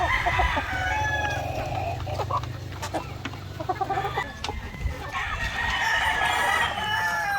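White leghorn chickens cluck busily at close range while feeding, with drawn-out crowing calls rising above the flock at the start and again toward the end.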